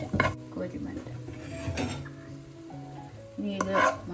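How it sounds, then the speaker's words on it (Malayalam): Onions frying in ghee in a pan for fish biriyani, close sizzling broken by scraping stirs and clinks of a metal spoon against the pan. "അതേ നെയ്യിൽ തന്നെ നമുക്ക് സവാളയും കൂടെ ഫ്രൈ ചെയ്തെടുക്കാം."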